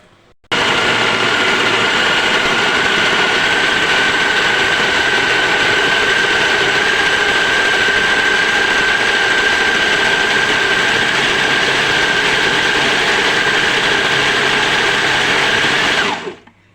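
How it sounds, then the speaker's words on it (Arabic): A kitchen blender grinds tomatoes and spices, starting abruptly into a loud, steady whining roar that holds for about fifteen seconds before cutting off. "ابتدي بقى اشغل الخلاط"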